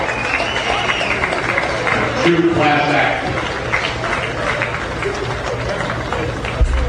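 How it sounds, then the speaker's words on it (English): A crowd applauds at a minor-league Frontier League baseball playoff game, Evansville versus Chillicothe, a steady murmur of clapping and cheering beneath a close announcer's voice. "Give Chris and his entire ownership group and staff, everybody a great round of applause, please"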